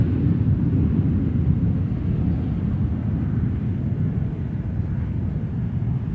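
An American Airlines airliner rolling for takeoff on runway 12 right at Minneapolis–St. Paul Airport, a loud, steady, low jet rumble that holds throughout with no voices.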